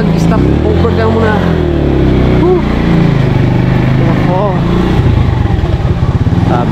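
Motorcycle engine droning steadily and loud throughout while riding up a mountain road to pick rambutan, the rider's voice speaking over the engine noise.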